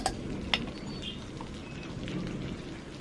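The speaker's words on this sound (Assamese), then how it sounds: "কিমান বৰষুণ দিছে আপোনালোকে শব্দ শুনি পাইছেনে?" Rain falls in a steady, soft hiss, with a couple of sharp drips near the start. A quiet, even background.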